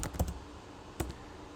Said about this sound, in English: I'm just typing down here